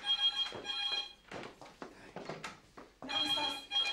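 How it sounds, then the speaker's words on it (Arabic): A telephone rings in an office setting with repeated electronic trilling bursts, loud and close, while people talk over and between the rings. "ردي على التليفون"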